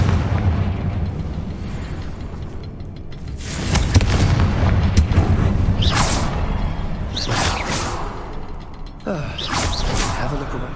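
Confringo blasting spell in the Hogwarts Legacy video game: a rumbling, creaking backdrop broken by several sharp, bright blasts and bursts, loud and close.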